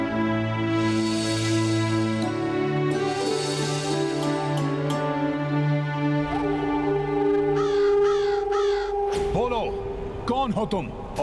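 Crows caw at a pind offering made during an ancestral ritual. Several harsh caws come near the end, layered over sustained music and voices.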